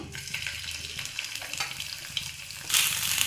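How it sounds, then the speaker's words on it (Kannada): Green chillies and ginger frying in hot oil in a pan give a steady close crackling sizzle throughout, with a louder burst of spitting near the end. "ಎಣ್ಣೆ ಬಿಸಿ ಆದಮೇಲೆ ಸ್ವಲ್ಪ ಮೆಣಸಿಕೆ ಮತ್ತು ಶುಂಠಿಯನ್ನು ಜಿಸ್ಕೊಂಡಿದ್ದೀವಲ್ಲ ನಾವು ಅದನ್ನು ಹಾಕ್ಕೊಳ್ತಾ ಇದ್ದೀನಿ"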